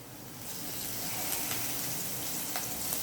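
Julienned ginger stir-fried in a pan for ginger honey lemon chicken, giving a steady, close sizzle and crackle of hot oil that swells after the first half second and holds evenly, with faint clinks of a utensil.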